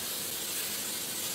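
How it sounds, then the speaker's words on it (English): Spray adhesive hissing from an aerosol can in one steady, close burst onto a cardboard boffer shield. "And spray adhesive, now you just spray it on there."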